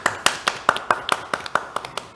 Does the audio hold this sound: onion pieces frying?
no